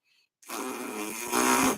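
A trumpet mouthpiece is buzzed with the lips set in the wrong position, giving one short, rough, raspy and noisy blast of under two seconds, heard close and alone.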